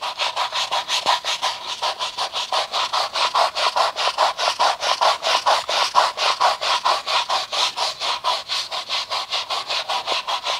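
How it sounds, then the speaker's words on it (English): A brush scrubs rhythmically back and forth with an all-purpose car cleaner, quick even strokes repeating steadily and loudly close by. "I'm just going to take this brush and just rub it back and forth like this"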